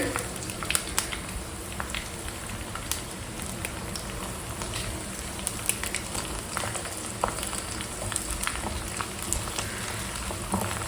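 Garlic cloves, chana dal, cumin, curry leaves and dried chillies frying in oil, a faint steady crackle with scattered small pops.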